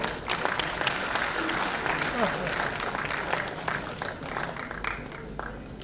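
Audience at an awards ceremony bursts into sustained applause, a dense wash of many clapping hands filling the hall, with voices and cheers mixed into the crowd noise.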